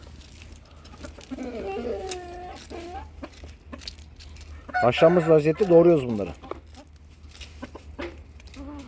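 Clucking chickens and bird calls rise loudly midway, over a background of steady low noise, with a person speaking briefly near the start.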